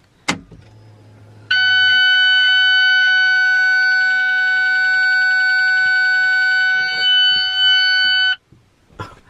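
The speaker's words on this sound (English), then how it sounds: "the beeping telling you that, you know, you're in the car and you should put a seatbelt on" Seatbelt warning chime inside an Alfa Romeo 4C: a loud, steady electronic tone lasting several seconds, with faint cabin clicks and handling noises before and after.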